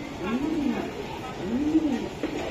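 Racing pigeons coo nearby in repeated low rolling calls, two clear bursts about a second apart, with people talking in the background.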